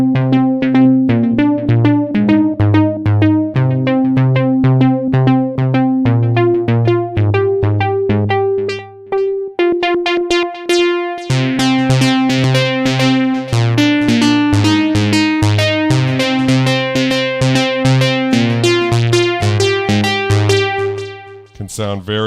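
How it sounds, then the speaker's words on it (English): A Dave Smith Prophet 12 synthesizer plays a lo-fi digital pluck patch in a steady, continuous run of short bright notes forming a repeating melodic pattern, loud and alone with no voices. "That's just a very useful pluck sound."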